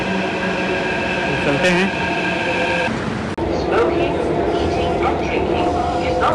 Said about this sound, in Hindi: हमारी मेट्रो भी आ चुकी है, ये देखिए